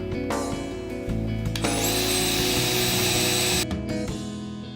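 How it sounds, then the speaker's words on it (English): A power drill bores into aluminium extrusion clamped in a vise, the motor spinning up with a steady high whine that holds for a few seconds, then winds down, close and fairly loud with no talk. "I've put the piece in the vise and now we're going to drill 2 holes."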